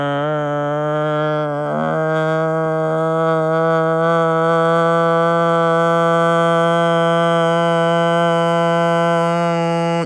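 A small engine runs at a steady, even idle after adjustment of the carburetor's high-speed screw, with a brief stumble near the start before settling into a constant drone, loud and close with no talking.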